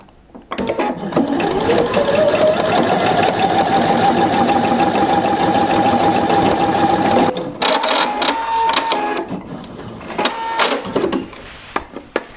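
Pfaff 720 sewing machine stitching a buttonhole, starting up with a quick rising whir and then running at a steady, loud, rapid mechanical hum for several seconds before stopping, followed by a few short bursts and clicks.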